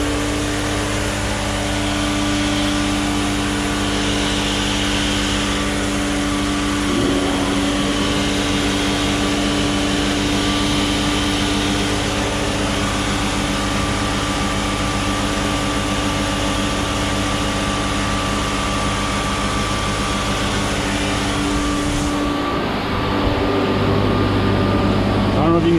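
A sanding machine runs steadily and loudly for the whole stretch, making a continuous droning whir with slight shifts in pitch before it eases near the end.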